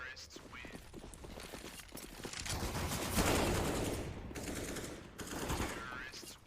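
Negev machine guns fire on the Inferno map in Counter-Strike, heard as dense, sustained bursts of rapid gunfire that swell in the middle, with voices talking over them.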